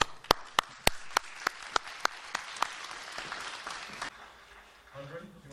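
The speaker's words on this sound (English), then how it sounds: "please help me clapping this wonderful panel for today" An audience applauds a conference panel on privacy, opening with a few sharp, separate claps that swell into a short round of applause before fading out, while someone talks over it.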